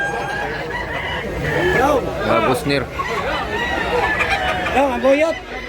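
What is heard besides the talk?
chickens and roosters crowing and clucking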